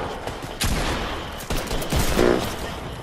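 Rapid bursts of gunfire from a shooter video game, loud and close, with sharp shots and a sustained fusillade stretching across the moment.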